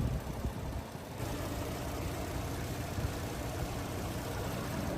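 A 2022 Audi Q7 petrol with a 340-horsepower turbocharged TFSI V6 idles in a steady, even low rumble, with a faint constant hiss above it and no talking.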